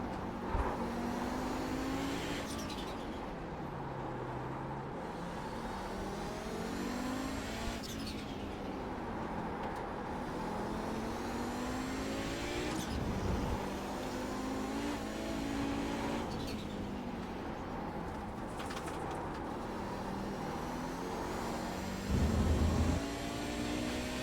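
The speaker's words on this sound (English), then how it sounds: "car coming up quick." Race car on the Mid-Ohio track during a vintage IMSA race, engine drone steady and close with repeated rising and falling pitch as gears change, faint and continuous.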